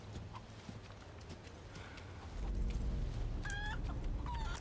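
Chickens cluck in the Resident Evil 4 Remake video game, with a few short, clear high-pitched clucks near the end over steady low game ambience and background rumble.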